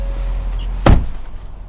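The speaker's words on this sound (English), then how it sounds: "Shut the door here for you guys." A single solid car door thud on a 2020 Ford Explorer, close and loud, followed by a brief rattle fading into quiet background.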